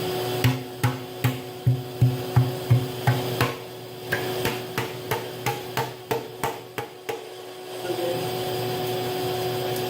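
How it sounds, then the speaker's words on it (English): A vacuum cleaner sucks rust dust out of a rusted motorcycle gas tank on a Kawasaki KZ250 build, its steady whine under a series of about fifteen sharp, regular metallic taps on the tank. "I'm gonna get the vacuum. I'm gonna try to suck out whatever dust is left in there."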